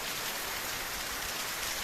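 Rain falls outside a tin-roofed house, producing a constant close hiss of drops with faint low drumming on the roof, with no voices.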